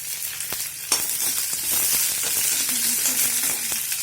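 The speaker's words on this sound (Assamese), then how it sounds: "কাটি থোৱা পিঁয়াজখিনি দি দিছোঁ" Chopped onions fry in a pan with a steady, close sizzle and crackle that holds for a few seconds, a small jolt partway through, no voices.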